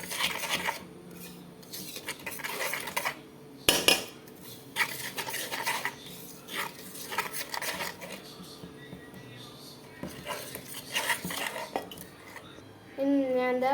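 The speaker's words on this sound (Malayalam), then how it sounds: "ഇനി നമുക്കിത് നല്ലോണം ഒന്ന് മിക്സ് ചെയ്യാവേ." Salt, baking soda and powdered sugar get mixed in a bowl, with a spoon scraping and clinking steadily against the sides in irregular bursts, close and fairly loud with no talk.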